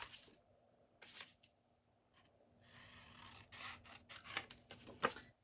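Scissors snip through a paper journaling card in a handful of quiet, separate cuts, with short pauses between them and a longer rustling cut in the middle, close and soft.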